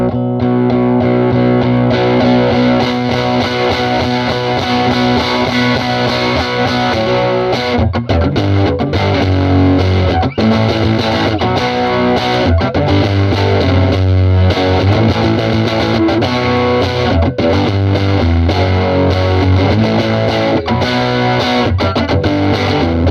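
Guitar chords through a Birdsong Kestrel amp, picked softly at first and then struck harder so the amp suddenly compresses, giving a thick, distorted, steady wash that stays loud throughout with no talking.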